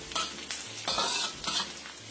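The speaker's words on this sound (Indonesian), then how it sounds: "Setelah bawang merahnya bercampur enak, bisa agak kecoklatan sedikit yang gorengnya" Shallots fry and sizzle in a pan for Javanese fried rice noodles, with bursts of stirring scrapes repeating every half second or so over a steady close hiss.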